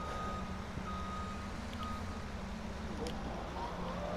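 A Massey Ferguson MF 356 loader in Farming Simulator 19 gives steady, repeated reversing beeps over a low engine hum, faint and even throughout, with no voices.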